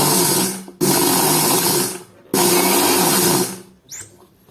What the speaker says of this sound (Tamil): ரொம்ப நேரம் கண்டினியூஸா திரிச்சா எண்ணெய் பசை வந்துடும்